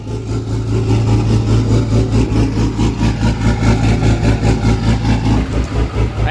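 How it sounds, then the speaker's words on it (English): A car engine idling after a head gasket replacement, loud and close, with a steady deep rumble and an even, rapid pulsing rhythm that runs throughout with no talking. "She'll idle like a rotary."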